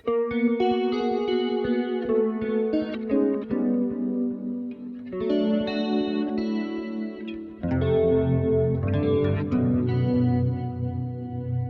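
BOSS GT-1000CORE guitar processor playing a clean jazz-style preset with chorus, a shimmering, sustained chorded electric guitar passage that carries steadily throughout with a fuller, louder strum near the end, no talking.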